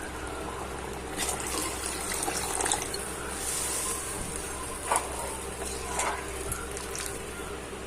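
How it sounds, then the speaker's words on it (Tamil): A steady stream of water pours into a pot, running continuously at moderate volume with occasional gurgles and splashes. "தேவையான அளவு தண்ணி ஊற்றிக்கலாம்."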